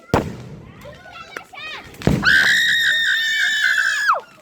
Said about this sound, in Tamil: ஏய் வான வேடிக்கைக்கு புஸ்வானம் விடுறாங்க பத்தியா?